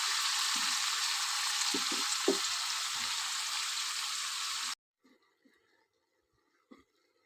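Mushrooms cooking in a covered pan give a strong, steady close sizzle with a few soft clinks of a utensil, then the sizzle cuts off abruptly to near silence broken by faint light taps.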